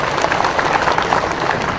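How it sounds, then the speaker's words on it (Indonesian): An audience at a West Java provincial government staff briefing breaks into brief applause, a dense, steady patter of many hands clapping together with a faint murmur underneath. "Tepuk tangan dong gitu."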